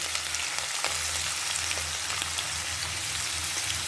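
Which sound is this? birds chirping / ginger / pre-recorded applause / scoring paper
ginger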